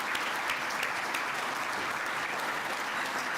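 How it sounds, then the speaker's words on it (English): Steady applause from an audience at a building and construction industry awards ceremony honouring an outstanding graduating apprentice, a dense, even wash of clapping that holds at constant level throughout with no voices on top. "Big round of applause."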